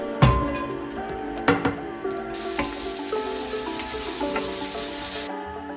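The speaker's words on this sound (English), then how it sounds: "Cut an onion and saute in a pan." Onion sautéing in a pan, a close sizzle with scraping and rubbing of the spatula and a few sharp knocks against the pan, steady and fairly loud.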